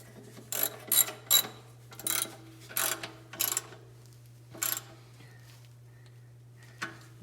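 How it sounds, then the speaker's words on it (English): A Master Mechanic ratchet wrench being cranked on a Carroll-Jamieson lathe under restoration, a series of close, sharp clicking pulls in an uneven rhythm, then quiet, with a steady low hum throughout. "I'll get the old master mechanic ratchet on this baby."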